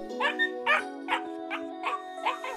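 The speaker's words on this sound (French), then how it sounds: "Un chiot!" A puppy yips and whimpers in a string of about six short, high, evenly spaced cries, close and fairly soft, over a steady low hum.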